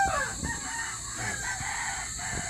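Several gamecocks crow one after another, some near and some farther off, over a steady hiss of background noise.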